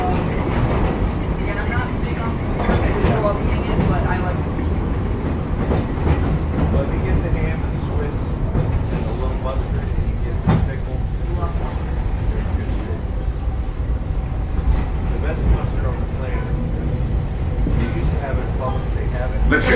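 Magic Kingdom railroad train running along its tracks, a steady loud rumble and rattle of the cars with faint clicking, continuing under a narrator's voice throughout.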